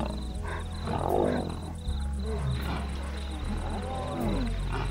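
Lions of a pride roaring in the wild, a deep rumbling chorus of several animals that swells near the start, carries on steadily over a low background drone and returns in fresh bursts toward the end.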